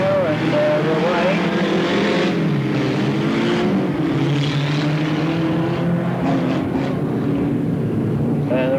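Race cars at Alwalton Raceway roar off at the start of a 1983 race, a loud dense mix of engines climbing and shifting in pitch as a commentator talks over them.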